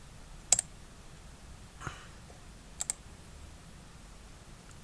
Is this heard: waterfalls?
no